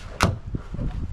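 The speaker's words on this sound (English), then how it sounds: "let's take this door off because it's being annoying. It's always swinging about and won't shut properly." A loose fridge door swinging and knocking, heard as one sharp clunk followed by softer rattling thuds, close by.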